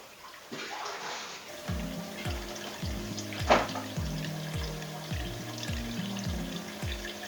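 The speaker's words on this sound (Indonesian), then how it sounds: "makanya perlu kita bilas terakhir sebelum kita masukin ke akuariumnya" Aquarium filter media from an arowana gutter filter being rinsed, with running water splashing and a repeating pattern of short, pulsing knocks under the flow.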